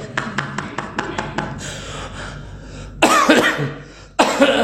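Several short coughs in a quick series, then louder harsh throat-clearing bursts from someone in an indoor gathering, close and alone without talk.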